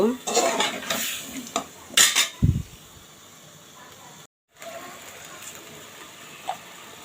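Taro stems are stirred and sautéed in a metal pan, with spatula scrapes and clanks against the pan in bursts, then a faint sizzle fills the quieter stretch.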